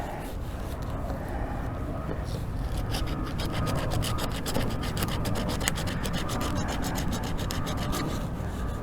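Coarse 60 or 80 grit sandpaper scrapes steadily across gelcoat by hand in quick back-and-forth strokes, a continuous close rasp, with faint talk mixed in.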